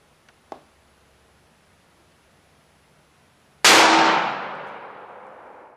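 A .38 Special +P Remington Golden Saber round is fired into a gel test block wrapped in four layers of denim from ten feet. After a quiet stretch with a couple of small clicks, a single loud, sharp report rings out and decays over about two seconds.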